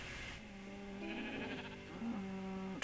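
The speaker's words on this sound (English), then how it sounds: "Let's see if my sheep are still out here." Sheep in the Minecraft video game bleat in a few drawn-out, wavering calls over a soft ambient backdrop, moderately close and with no talking.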